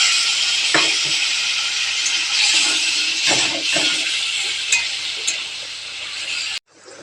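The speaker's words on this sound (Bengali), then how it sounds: "নাড়াচড়া করে কষে নেবো একটু" Spiced potato and egg masala sizzles steadily in a pan while a spoon stirs and scrapes through it with occasional clinks, the frying hiss loud and close until it cuts off abruptly.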